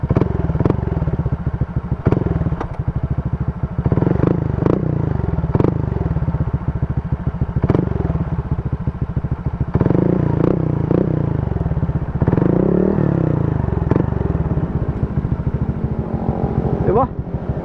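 A Honda Click 125i scooter fitted with a T4S aftermarket exhaust pipe revs repeatedly, loud and close, with its engine note rising and falling in a quick, uneven rhythm and occasional clattering knocks.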